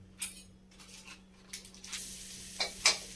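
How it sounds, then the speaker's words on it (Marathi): Vegetables sautéing in butter in a wok for a grill pizza sandwich, with a faint sizzle and a few light scrapes and clinks of a spoon against the pan, quiet and intermittent. "तर आपण 1 चमचा बटर टाकून सगळ्या भाज्या परतून घेऊया"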